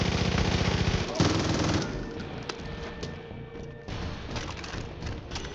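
Gunshots strike enemies in the Far Cry 5 video game, heard as a quick run of shots and impact thuds, a heavier boom early on, then scattered quieter hits fading under game noise.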